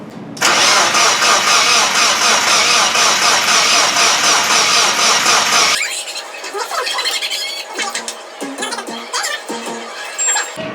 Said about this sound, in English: So obviously the car wasn't kicking on.